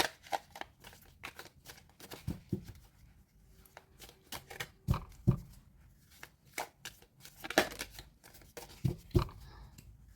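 Oracle card deck being shuffled by hand, close and soft: a long run of quick riffling flicks and card slaps in uneven bursts, with a few louder taps as the deck is squared, no voice.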